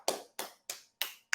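Five sharp hand claps ring out alone at a steady, brisk rhythm, each crisp and fairly close, with a short decaying tail between them.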